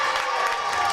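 A college women's basketball crowd at Alice Lloyd cheers and claps after a made three-pointer, a brief, loud burst of mixed shouting and applause.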